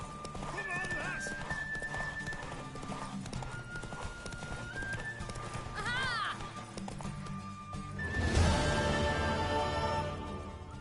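Rhythmic hoofbeats of a galloping horse in the video game The Witcher 3, with a whinny partway through, over a continuous backdrop of music and ambient sound.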